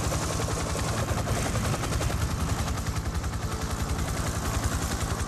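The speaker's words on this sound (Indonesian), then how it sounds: "Ia mengendalikan helikopter dengan terbata-bata" Continuous loud helicopter rotor thumping with a fast rhythmic chop and broadband engine noise throughout, no talk.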